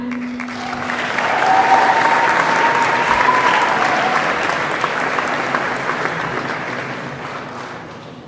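An audience applauds the graduates at a technical and vocational school graduation ceremony. The clapping is steady and dense, swelling over the first couple of seconds and then slowly fading, with a brief voice near the start.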